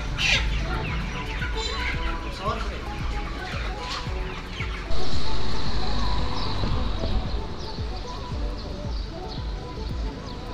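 Live chickens cluck and squawk constantly at a busy market in Chefchaouen, Morocco, close up and overlapping, with people's voices and market bustle mixed in.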